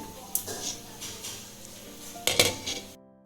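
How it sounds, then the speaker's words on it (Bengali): A kadai of rasgulla boiling in sugar syrup is shaken by hand, giving faint metallic clinks and scraping over a low bubbling background, with two louder rattles. "একটু এরকম কড়াটা ধরে নাড়িয়ে দিতে হবে।"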